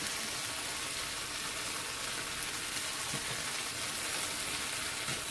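Chicken stir fry in General Tao sauce sizzles steadily in a hot pan, a dense, even hiss that stays constant and close with no voices.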